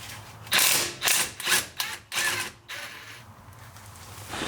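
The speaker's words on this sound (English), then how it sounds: "this lower bolt is the one we are going to try and disconnect here" A wrench works a seized 12mm lower steering rack bolt on a 2001-2007 first-generation Toyota Sequoia, giving five or six loud, close ratcheting bursts with short gaps between them and no talking.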